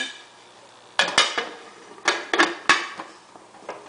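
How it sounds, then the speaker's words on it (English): A metal lid is set onto a pot of Ash-e Jo, a barley soup with beans and herbs, giving several close, sharp clanks and rattles in quick bursts with short pauses between. "And now I'm going to put the lid on."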